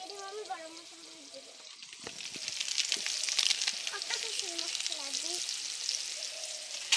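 Spices like turmeric and garam masala powder fry in a pan for a spinach and tengra fish dish, a soft sizzle that swells into a steady, bright crackling hiss under a voice talking.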